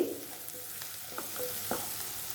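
Onions sautéing in oil for a peanut kara kuzhambu, a continuous moderate sizzle with a few light clicks of stirring against the pan, no voices.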